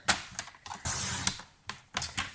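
A paper trimmer cuts through card stock, with several sharp, close mechanical clicks and scraping strokes in uneven bursts. The sounds are fairly quiet and no one talks.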